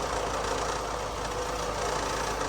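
A Subaru Forester engine runs rough close up, holding a constant, dense mechanical drone with an uneven knocking texture throughout and no voices.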